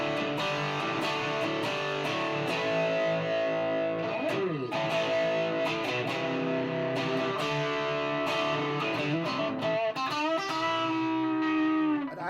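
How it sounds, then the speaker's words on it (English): Heavily distorted electric guitar chords through a Marshall amp's distortion with a humbucker pickup and no reverb ring out loud and sustained, with slides and bends between strums, filling the whole passage. "we're going to play the Marshall, so Marshall distortion,"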